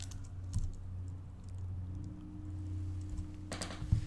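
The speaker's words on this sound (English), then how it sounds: "now I'm just using the arrow keys to just push up on the blue" Arrow keys on a computer keyboard are tapped during photo retouching, giving a few sparse clicks over a steady low background hum, with a quick cluster of presses near the end.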